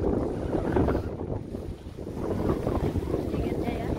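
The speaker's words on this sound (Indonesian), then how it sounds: "Sudah angin kencang terus." Strong wind blows across Barwon Heads beach on the sea, a continuous, close, rumbling buffet against the microphone that dips briefly before surging again.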